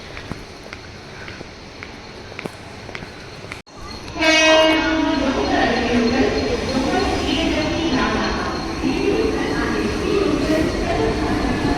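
A Mumbai suburban slow train heading toward Dadar, first heard as faint rhythmic clicks, then a sudden loud horn blast followed by a steady, close rumble and roar of the moving train.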